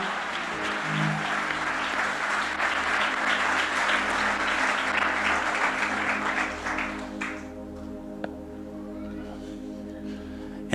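A church congregation claps loudly and steadily for several seconds, then the clapping fades out as a sustained musical tone continues underneath and a lone clap sounds near the end.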